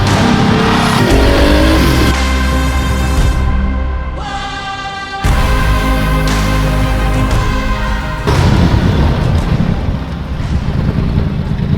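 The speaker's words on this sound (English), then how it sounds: "Unser 959 Paris-Dakar wird heute den ersten Kilometer absolvieren." A Porsche 959 Paris-Dakar rally car covers its first kilometer, a loud close engine whose pitch jumps abruptly between gear changes, with wind buffeting the microphone and brief tire noise, no talk.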